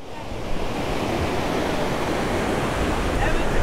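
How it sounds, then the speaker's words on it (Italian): Atlantic Ocean waves breaking on the Ghana coast, a loud, continuous roar of surf and wash close by, steady throughout with faint wind noise. "L'Oceano Atlantico."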